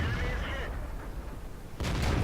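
Tank cannon fire in a World of Tanks-style game featuring the AT-7 and a T-34-1, heavy booming shots with rumbling decay, one burst near the start and another near the end, loud and close.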